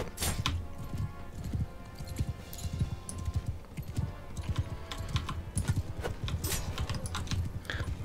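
Horse hooves clatter in a fast, steady rhythm during a medieval battle in Mount & Blade II: Bannerlord, with clicking, clacking game noise layered over the galloping beat.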